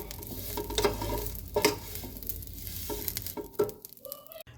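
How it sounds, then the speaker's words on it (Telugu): Dried moringa leaves fry in a little oil in a pan, making a close, steady sizzle. Stirring strokes scrape through it at intervals, and a faint clink comes near the end. No one speaks. "కొంచెం ఆయిల్ వేసి ఫ్రై చేస్తున్నాను"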